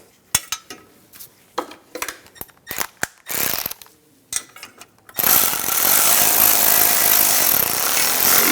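Hand ratchet tightening starter shield bolts on a 2006-2009 Mercedes-Benz E350: bursts of sharp clicking strokes with pauses between, followed by a loud continuous rattling whir of rapid ratcheting.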